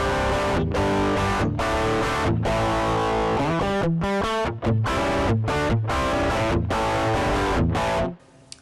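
Electric guitar played through the first preset of a Boss GT1 modeler, a heavily distorted, effected tone with sustained chords and choppy rhythmic stabs, loud and alone before cutting off at the end.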